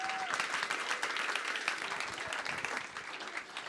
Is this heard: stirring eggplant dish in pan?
no